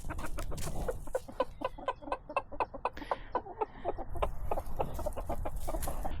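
Chickens cluck in a rapid, rhythmic series of close, clear calls in a yard with raised garden beds, continuous over a low background rumble.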